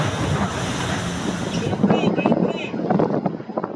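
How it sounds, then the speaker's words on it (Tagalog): Strong, roaring gusts churned up by a low-flying Chinese Navy helicopter over Sandy Cay batter the microphone in a loud, steady rush, then ease as voices talk over the remaining wind. "Matinding hangin naman ang inihasik ng Chinese Navy helicopter sa Sandy K3"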